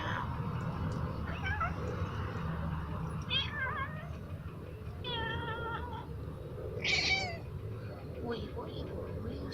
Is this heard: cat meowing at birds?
yes